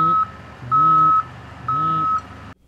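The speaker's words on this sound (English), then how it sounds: "you definitely can hear the beeping" A construction truck sounds its reversing alarm: three loud, steady electronic beeps, each about half a second long with short gaps between, over a low engine rumble, then the sound cuts off.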